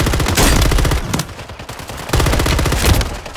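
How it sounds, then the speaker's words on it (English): Rapid bursts of loud explosions and gunfire in a Call of Duty Warzone match, a dense barrage in two heavy waves up close with no talking. "I walked right into an airstrike, I didn't get a warning for"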